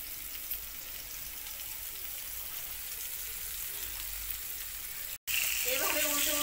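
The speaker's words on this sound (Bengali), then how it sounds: "হালকা করে ভাজা করবো" Ridge gourd coated in turmeric and salt fries in oil with a constant close hiss and sizzle; a brief dropout cuts in, then the frying returns louder with faint clatter.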